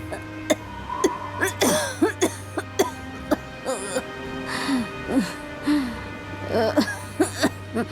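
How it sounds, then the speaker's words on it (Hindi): A woman coughs hard and repeatedly, with harsh strained bursts, wheezy gasping breaths and whimpering sounds in an uneven rhythm, close and loud over a low steady hum. "वो बुरी तरह खांस रही थी, मानो उनकी सांस रुकने वाली हो।"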